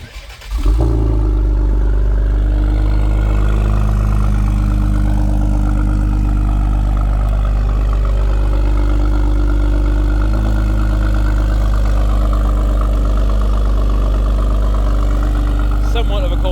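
Ford Explorer ST on a cold start with a full 3-inch exhaust, catching after a brief crank and settling into a loud, steady, deep idle drone that holds nearly unchanged throughout.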